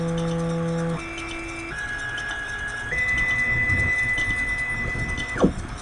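A Copley STX servo motor runs alone with a steady tonal whine that jumps in pitch several times as its velocity changes, stepping up toward 600 RPM, then stops with a brief clunk near the end.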